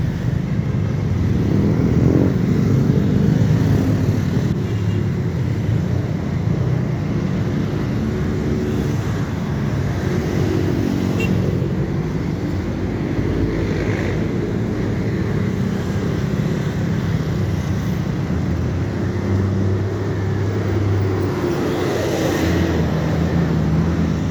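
Steady street traffic with passing cars and motorcycles rumbles continuously through a morning walk, a dense mid-level roadside din with no clear individual events.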